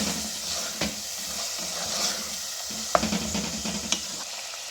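Minced meat for a spicy qeema aloo stir-fried in a pan, a steady close sizzle with occasional scraping strokes and sharp clicks of the spatula against the metal, no voices.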